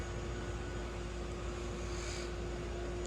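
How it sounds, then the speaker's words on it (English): A 1971 Saab 99 engine idles roughly with a steady, low, droning rumble, heard fairly faintly and without any voices. "It idles pretty roughly."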